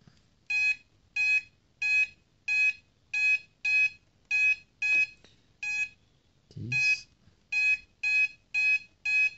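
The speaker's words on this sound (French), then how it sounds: "il faut bien entendre à chaque fois le petit bip qui signifie que ça a bien été pris en compte" A series of short, bright electronic beeps from a Singer MT610 sewing machine repeats in steady pairs and singles, with a brief muffled knock partway through.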